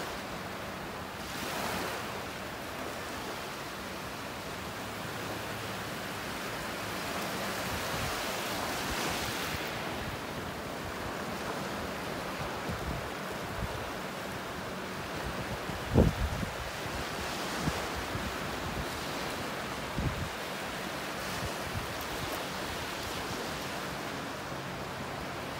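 Ocean waves washing onto a beach at North Naples, Florida, with the tide going out: a steady, continuous surf roar with gentle swells and some wind rumble, no voices.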